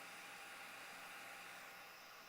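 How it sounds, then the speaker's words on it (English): Loud cooling fans on a Lerdge iX 3D printer give a steady, dense broadband whir with constant hiss, close and unbroken for the whole stretch, with no talking. "It's not the quietest printer I've ever heard"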